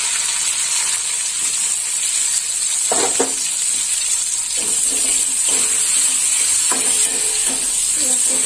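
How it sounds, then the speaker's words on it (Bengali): Onions fry in a pan with black cumin seeds, giving a steady bright hiss throughout, broken now and then by a few soft stirring scrapes, close by and without talk. "ভালো করে লাল লাল করে ভাজা হবে।"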